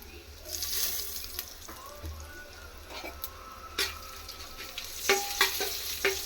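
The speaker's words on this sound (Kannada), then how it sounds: "ಸ್ವಲ್ಪ ಎಣ್ಣೆಲಿ ಫ್ರೈ ಆಗಲಿ. ಇದು ಇವಾಗ ಜೀರಿಗೆ, ಸಾಸಿವೆ, ಕಸೂರಿ ಮೆಂತ್ಯ ಎಲ್ಲ ಒಟ್ಟಿಗೆ ಹಾಕಿದ್ದೀನಿ." Cumin, mustard seeds and kasuri methi crackling in a little oil for vegetable pulao, a soft sizzle broken by sharp pops and stirring clinks, busier toward the end, with no voices.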